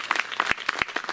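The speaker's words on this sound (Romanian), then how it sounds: "Și aplauze pentru" Applause at a mayoral campaign launch for local elections: a short, quiet burst of rhythmic clapping, evenly spaced hand claps from a modest crowd, with no voices over it.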